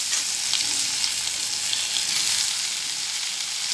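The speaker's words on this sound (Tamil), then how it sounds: "இந்த மாதிரி இப்போ நான் தக்காளி சேர்த்துக்கிறேன்" Tomatoes for porikuzhambu sizzle in a pan with a constant, even frying hiss and faint crackle, steady throughout with no talking.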